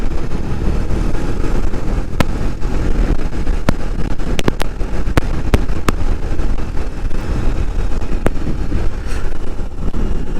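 A BMW R18 motorcycle cruises at speed under heavy, roaring wind buffeting on the microphone, with scattered sharp clicks and no voice.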